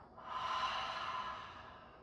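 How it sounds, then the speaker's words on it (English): A single slow, airy breath drawn in and let out during an energization breathing exercise, close and soft, rising and easing away over about two seconds. "So we're gonna inhale, and then we're gonna exhale."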